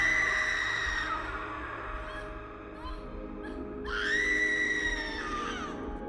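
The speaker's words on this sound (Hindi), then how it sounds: "तभी एक औरत चीखी" A woman's high, drawn-out scream used as a horror sound effect: two long wailing cries, the second rising after a brief dip, loud and close over a low, steady rumble.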